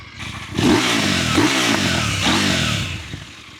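A KTM 990 Duke R motorcycle revs through its exhaust pipe in a few quick successive blips that rise and fall before settling back to idle, loud and close with no talk.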